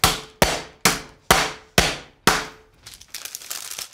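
A pork cutlet is pounded flat on a kitchen counter with a mallet, six sharp, ringing thuds in an even rhythm about half a second apart, followed by lighter scattered clicks and rustling.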